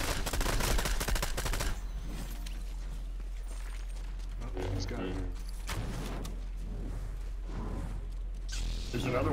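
Fortnite gunfire crackles in rapid bursts beneath steady voices chatting over game audio, with several clustered volleys and a hum running throughout.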